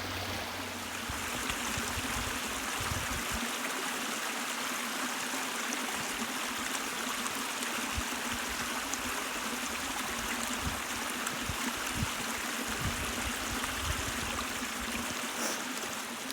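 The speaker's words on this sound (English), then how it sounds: "A little babbling brook." A small babbling brook on Ontario Crown land flows steadily nearby, a continuous bright rushing and trickling wash of water with no talk over it.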